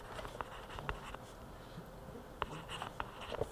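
Marker strokes on a classroom board during a science lesson, a few short scratchy bursts spaced irregularly, fairly faint, with no talking.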